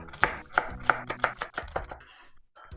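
A kitchen knife slices vegetables into 1-centimeter strips on a cutting board, making crisp, evenly spaced chops close to the microphone. The cuts run faster toward the end, and no one speaks.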